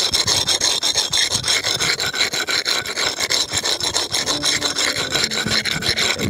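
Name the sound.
rubbing a concrete skate curb with a brick rub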